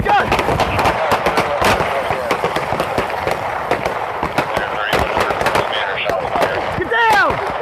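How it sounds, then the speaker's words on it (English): Gunfire during a police shootout in Indianapolis, with sharp cracks and bangs scattered across the clip under loud, frantic shouting from officers. "He's still firing! He's still firing!"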